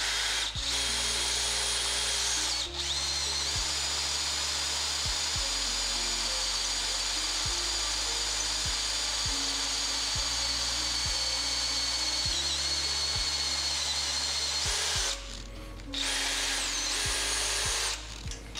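A cordless power drill bores through metal to make a car bracket for an electric power steering conversion. The motor whines loudly and steadily through repeated bursts, its pitch stepping up and down as the bit bites, with brief pauses between runs.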